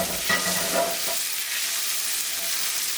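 Mushrooms and broccoli lightly frying in a pan, a steady close hiss of sizzling with soft stirring scrapes early on, no voices.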